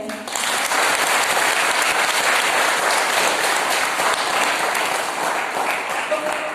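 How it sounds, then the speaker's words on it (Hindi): A congregation gives a dense, steady round of applause for God during a Hindi-language sermon, many hands clapping continuously and loudly for several seconds. "तो क्यों ना हम परमेश्वर के लिए ताली बजाएं।"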